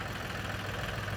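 A tractor engine idling steadily, a loud continuous low rumble with a strong low hum and broad mechanical noise, close by and unchanging, no voices.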